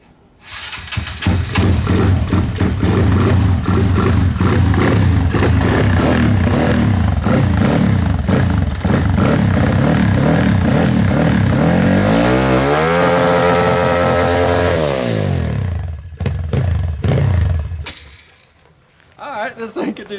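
A Honda Grom motorcycle engine revs hard in cold weather, loud and close, its pitch climbing and falling through repeated throttle blips before cutting out near the end, with no talk over it.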